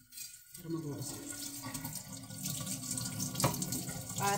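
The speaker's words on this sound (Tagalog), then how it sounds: "Kanina naghugas na ako. Pero maghugas ako." Hands are washed under a running water tap, with a steady close rush and splash of water that begins after a short silence and continues unbroken.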